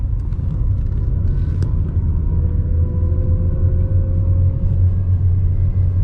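Car climbing the mountain road up to Sveti Jure, the highest peak in Croatia, gives a loud, steady low engine rumble from inside the cabin, with faint rattles and ticks on top.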